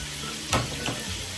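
Tortang talong, an eggplant omelette, sizzles steadily in a pan with a constant hiss, and a couple of soft stirring or scraping touches sit on top of the frying.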